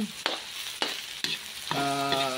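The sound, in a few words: sautéing tofu with ginger, garlic and onion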